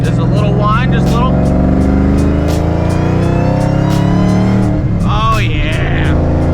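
An 800 hp twin-turbo Shelby GT500 Mustang drives with a loud, steady engine drone and a faint whine, swelling as it revs near the end, while someone talks over it.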